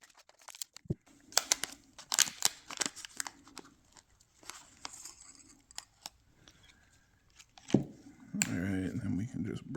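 Scissors snip and crinkle through plastic packaging holding yellow DRL bulbs for a BMW 340i, in short close bursts and crackles, with a louder rustling stretch near the end.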